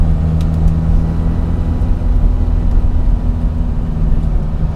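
Engine of a 1964 Morris Mini Cooper S 1071cc on the move, a close, steady loud low growl with slight revving fluctuations and a rough rumbling undertone.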